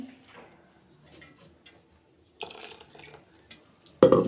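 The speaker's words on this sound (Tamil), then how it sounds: "அந்த மிக்சியை கழுவிட்டு கொஞ்சம் தண்ணி சேர்த்துக்கிறேன்" Quiet kitchen clatter and trickling water, then a burst of sloshing as water swirls and rinses inside a mixer jar near the end.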